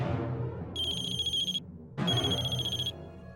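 A mobile phone ringtone plays two bright, melodic bursts with a short gap between them, loud and close over a low, steady background.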